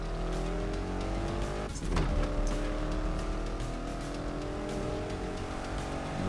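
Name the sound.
racing car engine in the video game NFS Unbound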